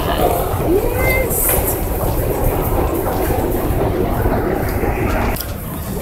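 A London Underground train carriage in motion, a loud continuous rumble and rattle with clattering wheels and a brief metallic squeal, while a person speaks over the noise.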